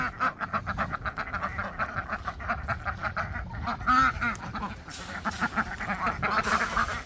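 Farm ducks quacking in a pasture, a dense continuous chorus of overlapping nasal quacks at close to mid range, with a faint voice now and then.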